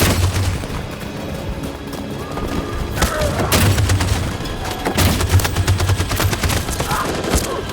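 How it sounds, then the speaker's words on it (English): Bursts of machine gun fire and heavy booms in the game Detroit: Become Human, loud and close, with rapid volleys and explosive thuds layered over a constant battle din. "That machine gun is taking down everything that moves!"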